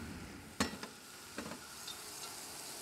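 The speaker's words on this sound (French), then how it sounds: "Il faut faire revenir les champignons." Mushrooms browning in a frying pan make a faint, steady sizzle, with a few quick scraping knocks as they are stirred.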